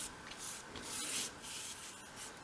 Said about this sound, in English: bevel it just to give it a bit of shape. Just bevel along one long edge.